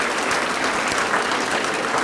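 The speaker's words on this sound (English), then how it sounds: "please give him a round of big applause to Dr. Suresh Gandhi." A college event audience gives a sustained round of applause, with dense, even clapping from a crowd throughout and no voices over it.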